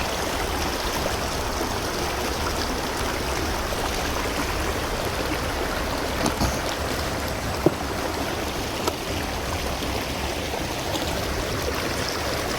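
A wide river rushes continuously, a loud, dense broadband roar of flowing water with no voices and a couple of faint knocks.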